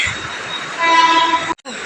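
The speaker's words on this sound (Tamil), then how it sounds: "நமக்கு கரெக்ட் டைமில் ட்ரெயினுமே வந்துட்டு" A train pulls into a station with a loud rolling rumble and a sustained horn tone, which cuts off abruptly near the end.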